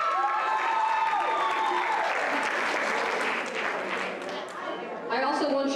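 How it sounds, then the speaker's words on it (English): Crowd applause at a high school senior awards ceremony, a dense sustained wash of clapping with some cheering, mixed with a voice or music over the top and swelling again at the end. "One more round of applause for Hoffman."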